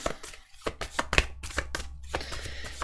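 Tarot cards shuffled by hand at close range, a quick run of crisp slapping and riffling taps repeating in an uneven rhythm, with no voices.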